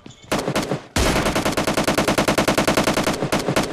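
Rapid, loud bursts of automatic gunfire from a PUBG Lite firefight, a short volley followed after a brief gap by a long, steady stream of shots in quick rhythm.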